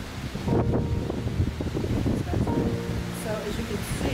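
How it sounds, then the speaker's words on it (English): Strong gusting wind buffets the microphone with a low roar, steady throughout, with faint rustling underneath, in Desert Hot Springs, California. "so a little windy today"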